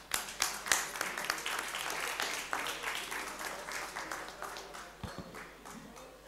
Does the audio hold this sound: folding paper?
no